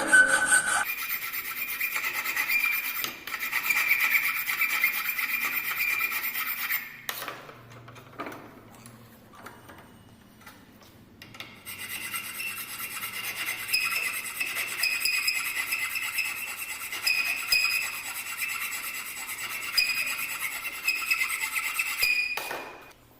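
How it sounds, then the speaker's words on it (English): A hand file rasps across a metal workpiece in a mechanical engineering fitting workshop, close steady strokes in a long run, a quiet pause, then another sustained stretch of filing. "Now filing this side for finishing purpose."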